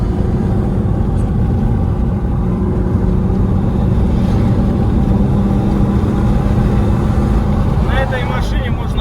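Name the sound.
car engine exhaust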